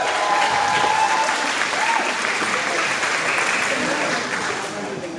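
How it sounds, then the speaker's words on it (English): Sustained audience applause fills a Thanksgiving celebration for Sto. Nino, a dense, steady clapping that carries on for several seconds and tapers slightly toward the end. "let's give the Paloma kids another big round of applause."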